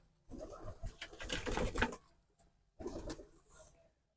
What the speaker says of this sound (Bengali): এই যে ব্ল্যাক কালার এটা সিরাজি কবুতর